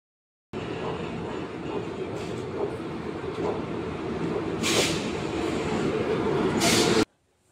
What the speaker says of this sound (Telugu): ఆఖరి ట్రైన్ వచ్చేసిందండి.